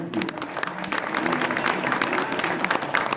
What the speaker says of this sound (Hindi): और तालियों से जरूर सम्मान